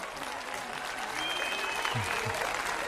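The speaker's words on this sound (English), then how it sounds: "Thunderous applause" Steady applause from a crowd fills the whole stretch, a dense wash of clapping with a couple of low thumps near the end.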